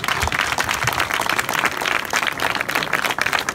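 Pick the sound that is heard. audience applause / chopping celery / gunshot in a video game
audience applause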